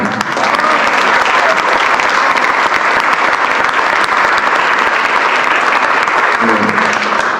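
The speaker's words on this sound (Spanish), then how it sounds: "Y un aplauso para el museo que cumple ya 3 años de estar aquí." An audience claps loudly and steadily for a museum marking its third anniversary, dense crowd applause lasting several seconds, with a voice briefly heard over it near the end.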